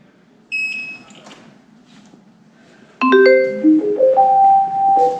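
Electronic beeps and a rising sequence of chiming alert tones from an iWheel RS Ghost electric unicycle's alarms play loudly and clearly, with a brief earlier chirp and no talking.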